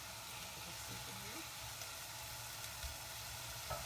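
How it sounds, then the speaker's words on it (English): Steady, faint sizzling of onion frying in oil, a constant hiss with occasional small pops. "hopefully you can hear that sizzling away a little bit"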